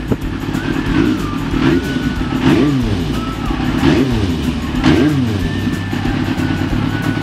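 An idling 1995 Yamaha YZF 750R motorcycle engine with a quiet exhaust is revved in a few quick throttle blips, each rising and falling in pitch over a steady close rumble.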